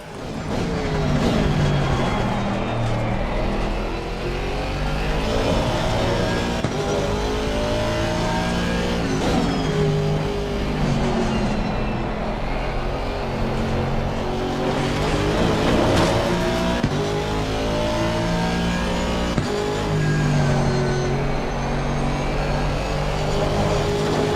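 Race car engines in Assetto Corsa Competizione, with Ferraris among the field, roar loudly and continuously, rising and falling through gear changes with occasional tire squeal and skidding.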